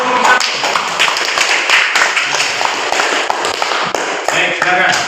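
Classroom applause for the first student group, a dense steady wash of many hands clapping throughout, loud and close, with faint voices mixed underneath.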